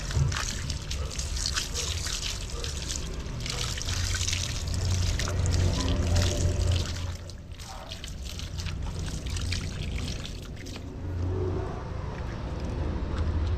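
A strong water current rushing in a steady broadband wash, continuous and fairly close, with a brief dip in the middle and a low rumble underneath.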